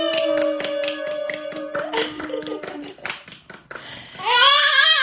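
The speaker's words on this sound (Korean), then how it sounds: "박수." A baby of about ten months claps its hands at home during Christmas. A series of quick, sharp claps runs alongside a sung or hummed tone, and adult voices and babble follow near the end.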